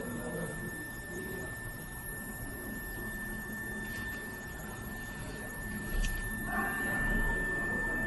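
A 24V medical ventilator motor runs at 100,000 RPM, giving a faint, steady high-pitched whine over a low hum that swells slightly near the end, with no talk over it.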